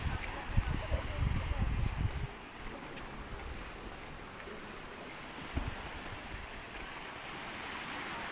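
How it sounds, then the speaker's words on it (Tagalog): Strong wind gusting across the microphone at Pansol Beach, with waves washing in from the sea nearby; a loud rumbling burst of buffeting for the first two seconds, then a steadier roar under light talk. "Malakas ang hangin."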